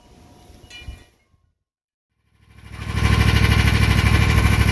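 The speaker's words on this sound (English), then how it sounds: "Yes, I am so happy I have a 0-turn mower." A zero-turn lawn mower engine starts up after a brief silence and then runs loud and steady nearby, a dense rumbling drone with no voices, following faint background noise at the start.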